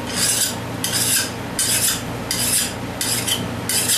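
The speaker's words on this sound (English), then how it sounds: "But a file will work it down." A metal hand file rasps across a lawnmower blade to sharpen it, six steady strokes in a regular back-and-forth rhythm, close and fairly loud with no talking.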